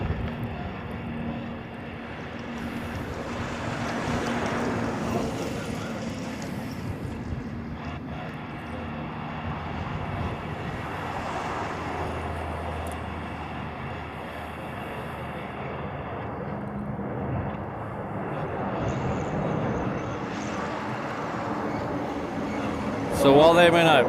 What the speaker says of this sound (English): There's that Qantas leaving now.